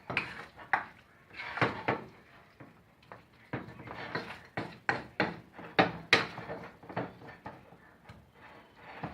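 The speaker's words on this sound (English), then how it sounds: "I'm trying my best here to mix well." Spoon clattering against a bowl while mixing a chilli chicken marinade, with repeated uneven knocks and scrapes close by, no talking.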